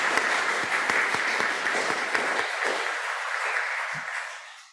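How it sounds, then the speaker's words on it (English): Congregation applause following a hymn at a church community service, a dense steady round of clapping that holds for several seconds and then tapers off near the end. "Let's have a quick round of applause."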